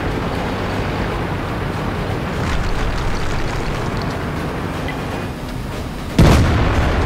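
In the World of Tanks video game, a low rumbling battle din rolls steadily before a sudden heavy tank-gun blast and explosion booms near the end, with rumble lingering afterward.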